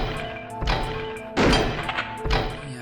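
Shotgun blasts striking an animated suit of armor in a video game: several heavy, booming thuds in sequence, loud and close, each with a short ringing tail, with no talking.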